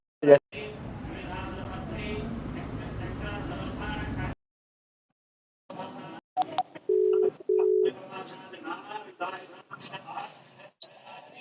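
Telephone keypad tones while placing a call on a new phone, a few short steady beeps between stretches of talk.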